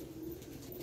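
A pigeon gives a low, soft coo, brief and faint, from a loft of flying pigeons.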